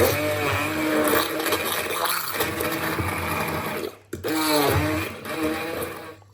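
A blender whirs loudly and continuously, mixing banana cake batter with bananas and nuts, its motor pitch rising and falling as it churns, briefly cutting out before starting up again.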